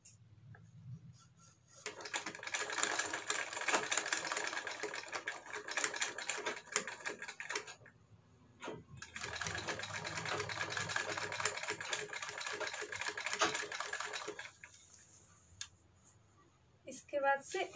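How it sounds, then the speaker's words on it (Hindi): A sewing machine stitches a shirt collar in two long rattling runs separated by a pause, a fast mechanical chatter heard close, with brief quiet handling sounds at the start and end. "देखिए अब ये वाला सिलाई हम लगाएंगे।"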